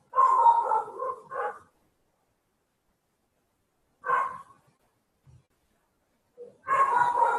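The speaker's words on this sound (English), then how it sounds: "I'm sorry for the dog is barking." A dog barks indoors in short bursts: a cluster of barks and yips, a pause, a single bark, then another run of barking, fairly close and loud against silence.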